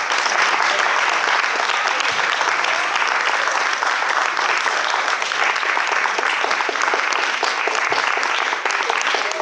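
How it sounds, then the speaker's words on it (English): An audience at a documentary panel gives the panelists a sustained round of applause, dense and steady clapping from many hands that continues without a break throughout. "give them a big round of applause"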